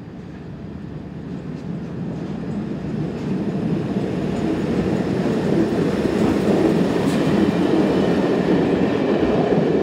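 A train runs along a single-track line in Switzerland toward Langenthal, a steady rumbling roar of wheels and rail noise that grows gradually louder as it nears.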